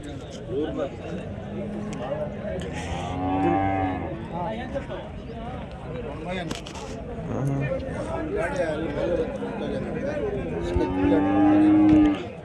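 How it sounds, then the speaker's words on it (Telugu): Cows and calves moo repeatedly at the Chintamani cattle and calf market, several drawn-out calls near and farther off amid crowd bustle, with people talking throughout. "చింతామణి ఆవుల సంత, దూడల సంత"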